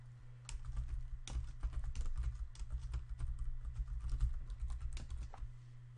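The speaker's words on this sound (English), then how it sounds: "I will enter the passphrase again to confirm." Passphrase being typed on a computer keyboard, a fast irregular run of close, crisp key clicks over a steady low hum, with no voice.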